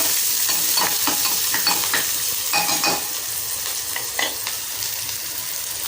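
Food cooking in a pan in a home kitchen: a steady, close sizzle runs throughout, broken by scraping stir strokes and small clinks, with no talking.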